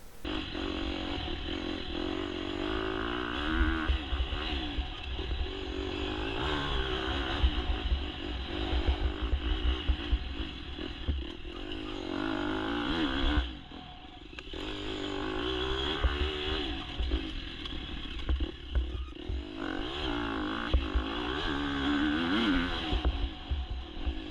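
A KTM motorcycle with P3 carbon engine mounts laps a turn track, its engine droning steadily and loudly with repeated rising and falling revs through corners, a brief dip near the middle before it pulls away again.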